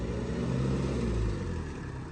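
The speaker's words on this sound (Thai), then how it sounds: "เสียงเครื่องก็เงียบเลยว่ะคันนี้ เสียงเครื่องเงียบมาก" A steady, low engine drone from a Toyota Hiace van's 2.8-litre 3L diesel runs continuously and fairly loud, with a slight swell midway and no voices.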